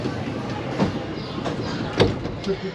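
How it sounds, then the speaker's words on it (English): Monorail car of the Wild Asia ride at the Bronx Zoo, a steady rumbling train-like hum with sliding doors thudding shut around the middle and near the end, close and fairly loud. "stand clear of the closing doors and please take your final seats."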